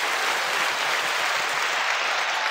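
Dense, even applause filling the whole stretch, a steady uniform hiss of many hands clapping at constant loudness with no breaks or distinct individual claps.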